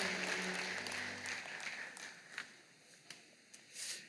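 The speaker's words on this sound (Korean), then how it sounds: "여러분께 박수로 환영하시죠." A church congregation applauding to welcome someone during a Sunday worship service, the clapping dense at first and then thinning out into a few scattered claps over about four seconds.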